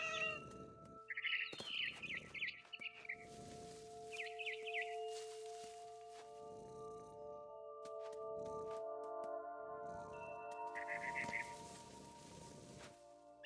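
Frightened bird chirping in short bursts in What Remains of Edith Finch, heard over steady game ambience with low rumbling footsteps underneath.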